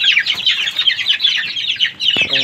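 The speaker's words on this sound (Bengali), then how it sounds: "এই হচ্ছে আমাদের দেশি মুরগি, যেগুলো খুব ভয় পায়।" Native country chickens on a farm, jittery and easily frightened, cluck and squawk in a busy, overlapping chorus close by, with a sharper burst of alarm calls near the end.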